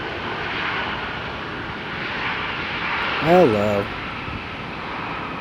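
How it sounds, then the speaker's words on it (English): A Copa Airlines airliner on its takeoff roll, a steady broad jet roar that holds throughout at moderate distance, with a person briefly speaking over it. "I know this Copa is going to do a long takeoff, but it'll take off eventually."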